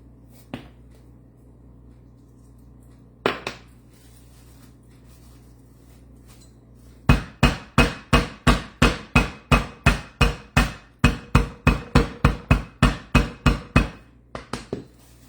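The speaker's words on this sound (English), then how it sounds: "so I really don't have to hammer them that hard" Chicken breasts pounded thin with a meat mallet in a kitchen for a cordon bleu casserole: a couple of isolated thuds, then a fast, steady run of about twenty loud, sharp blows close by, ending with a few lighter taps.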